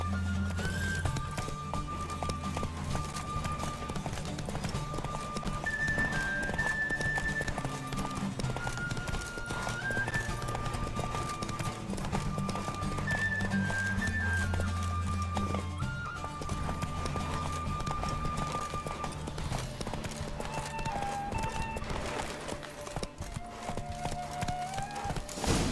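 Roach the horse gallops in The Witcher 3 with a fast, continuous clip-clop of hooves and occasional neighs, set over music.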